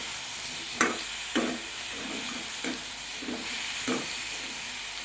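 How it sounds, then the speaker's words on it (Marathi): Finely chopped tomato frying in oil in a home kitchen, a steady soft sizzle broken by six or seven scraping stirs with a spoon at roughly even intervals, no voices. "तेलामध्ये आपल्याला आता हे तळून घ्यायचं आहे थोडंसं"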